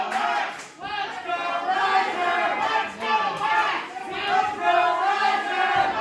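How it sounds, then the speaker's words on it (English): Arena crowd at a Stride wrestling event cheering loudly for wrestler Riser, a sustained roar of many voices with chanting swells that rise and fall throughout, filling the space without pause. "And listen to the crowd. They are so into Riser right now."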